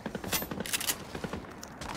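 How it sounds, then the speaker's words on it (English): Rapid bursts of gunfire in the Fortnite video game, several sharp clustered shots at moderate distance with short pauses between volleys and quiet game ambience underneath. "Is there a kid shooting that way?"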